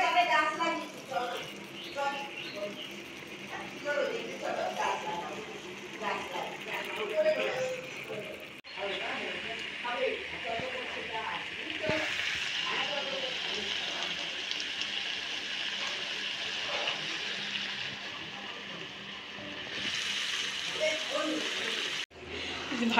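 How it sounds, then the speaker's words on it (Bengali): Mutton sizzling in a kadai as it is stirred with spices, a steady frying hiss with scraping and clinking of the spoon against the pan, while a person talks over it throughout. "ভালো করে মাংসটা এবার একটু নড়িয়ে নিতে হবে, সমস্ত মশলাগুলো মিশে দেওয়া যাতে"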